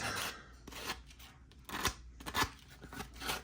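Hand file working a chamfer along the edge of a custom body panel for an Axial Gilamon RC truck, a series of quiet close rasping strokes at an uneven pace.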